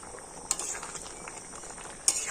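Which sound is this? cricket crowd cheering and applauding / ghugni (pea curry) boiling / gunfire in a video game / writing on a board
ghugni (pea curry) boiling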